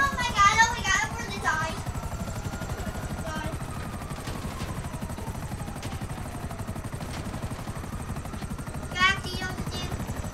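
A helicopter flies in a street-running video game, giving a continuous rotor drone and chop that runs throughout, with bursts of gunfire-like crackle near the start and end.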